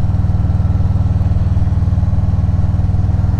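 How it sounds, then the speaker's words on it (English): A motorcycle engine runs steadily throughout, a loud low chugging drone with a fast regular pulse, close to the microphone and with no voices. "capturing both the voice while I'm riding, but also the sound of the motorcycle"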